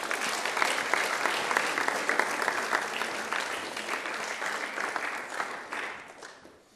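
An audience at a youth awards event applauds, dense steady clapping that holds strongly for several seconds and then tapers off toward the end.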